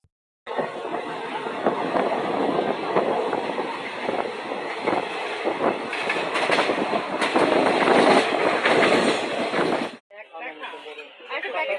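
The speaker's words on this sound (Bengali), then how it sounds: "এক্সপ্রেস আর লোকালের মধ্যে দেখো মনে হচ্ছে রেস হচ্ছে, ঝড়ের মধ্যে যাচ্ছে" Express and local trains thunder past at close range near Dum Dum station, Kolkata, with a loud, continuous rumble and rattling clatter for about ten seconds, then fade to quieter voices.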